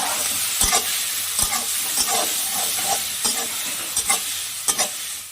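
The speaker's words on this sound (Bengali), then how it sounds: "এবার কষিয়ে নিব ভালো করে।" Salt, cumin powder, ginger paste and slit green chillies sautéing in a pan, with a continuous sizzle broken by repeated sharp scrapes and taps of a spatula stirring the spices.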